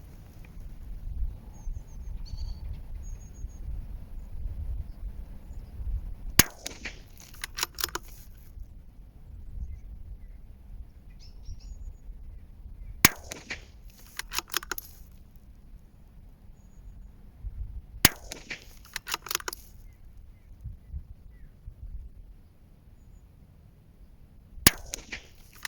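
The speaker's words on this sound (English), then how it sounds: "we'll do a 5 shot group here now" Five sharp cracks from a CZ 457 Varmint .22 LR rifle fired at 200 yards, spaced several seconds apart over a low, quiet outdoor background.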